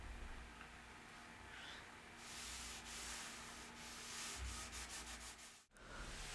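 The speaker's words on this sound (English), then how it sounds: "for the sides, I just used a rag to apply the oil" A rag rubs oil finish onto the sides of a live edge wood slab, making a soft, continuous close swishing rub in long strokes. It is quiet, with no voices.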